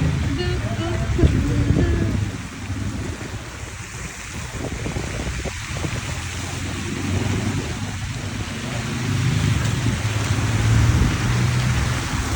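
Rain and road spray heard from a scooter riding through Istanbul on a rainy Saturday, a steady wet hiss mixed with wind and traffic rumble, with a rider's voice talking over it.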